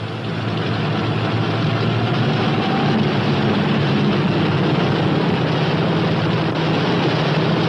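P-61 Black Widow night fighter's radial engine turning over slowly at low throttle, a steady, loud, low rumble that holds without a break throughout, with no voices.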